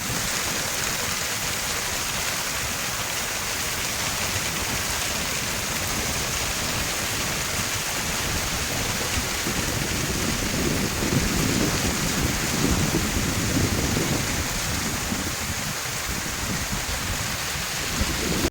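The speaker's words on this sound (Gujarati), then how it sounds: "લાગટ વરસાદ પડે છે ભાઈ બધે હો" Heavy rain pours down on a village during a storm, a dense, constant roaring hiss throughout with a faint low rumble mixed in and no talking.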